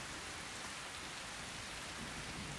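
Rain falling, a steady broadband wash of dense droplets, even and fairly faint throughout with no talking.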